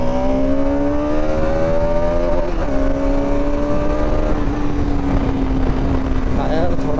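A Bajaj Pulsar RS200 BS7 motorcycle accelerating hard from close by, its engine note climbing through a shift and then rising again, with a rider talking over the engine.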